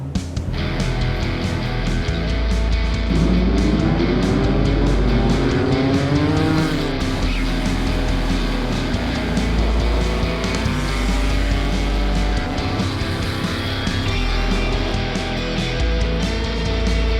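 A custom Can-Am Spyder F3 rides on an open road, its engine droning loud and close with rising pitch sweeps as it accelerates and shifts, joined by steady wind and road rush.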